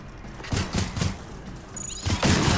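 Gunfire in the video game Generation Zero: a few bursts of rapid shots a second or so apart, punchy and fairly loud, with no speech over them.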